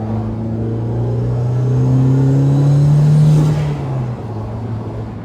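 A turbocharged 1995 Mazda Miata M Edition driving and accelerating, heard from inside with a steady engine drone rising in pitch and loudness, then easing off as the revs drop near the end.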